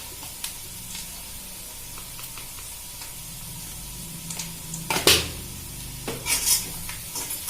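Poha ingredients fry softly in a pan while a spoon stirs, with faint sizzling and a few sharp metallic scrapes and clinks against the pan near the end.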